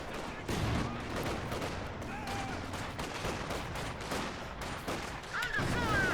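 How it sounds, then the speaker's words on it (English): Katyusha rocket artillery and gunfire in a World War II strategy video game, a dense continuous barrage of rumbling blasts and crackling fusillade layered throughout, steady and loud with distant whistling streaks. "We just hear a Katusha that's coming from Brosras earlier."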